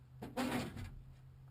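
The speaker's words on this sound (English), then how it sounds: "The glove box is a drawer." The drawer-style glove box of a Packard car slides open in one brief, close scrape lasting under a second, over a steady low hum.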